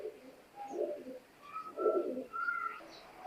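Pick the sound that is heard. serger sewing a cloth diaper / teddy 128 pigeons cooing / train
teddy 128 pigeons cooing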